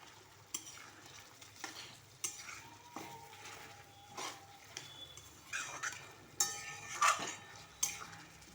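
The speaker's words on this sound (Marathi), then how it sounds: "चिकनचे पीस चांगले तेलामध्ये परतून घ्यायचे" Chicken pieces fry in oil while a spoon scrapes and clinks against the pan in repeated stirring strokes over a quiet, low sizzle, close and fairly soft, with no talking.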